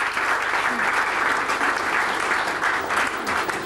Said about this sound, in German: herzlicher Applaus jetzt noch einmal für Sie